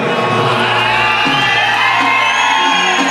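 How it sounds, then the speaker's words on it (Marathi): A large crowd at a Guru Purnima music event cheers, whoops and shouts loudly in a dense, continuous roar that lasts throughout. "जोरदार टाळ्या वाजवा"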